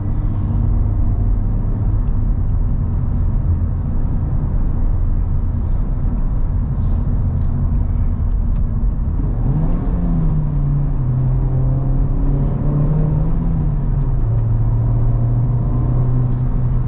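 A 2023 Honda Civic Type R engine pulls steadily under acceleration, heard from inside the cabin as a smooth, continuous low drone with road rumble beneath. The engine note climbs and holds in pitch partway through.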